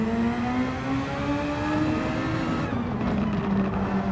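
Race cars in Gran Turismo 7 in a Super Formula series race drone steadily with a loud, sustained engine whine that shifts pitch as they hold speed, one car's tone dropping near the end, with no talk.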